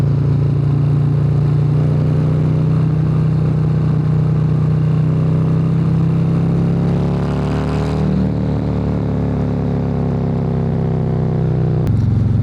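A Harley-Davidson Road Glide Special with a 131 engine rumbles steadily at cruising speed, its deep loud drone holding throughout, with the engine note sliding in pitch partway through and wind noise layered on top.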